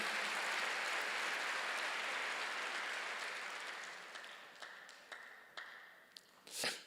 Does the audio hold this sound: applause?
yes